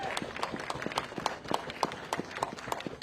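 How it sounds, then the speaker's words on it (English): Crowd at an outdoor farming protest against inheritance tax changes applauding, a steady wash of many hands clapping in the cold, fairly loud and continuous throughout. "Let's have a warm round of applause for Adam Brooks."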